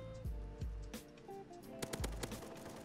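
Bursts of gunfire from a Roblox World War II shooter game, a few sharp close shots with thumping low booms early on, then a quick cluster of rapid cracks near the end, over steady background game noise.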